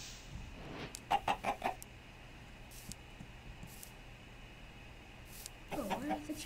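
A chicken in the Minecraft game clucks in a quick burst of several short, faint notes, then clucks again briefly near the end over a quiet background.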